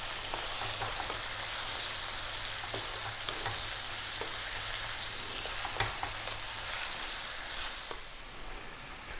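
Onions and garlic soften over medium heat in a pan, a steady close sizzle running throughout with occasional light scrapes and clicks of stirring, no voices.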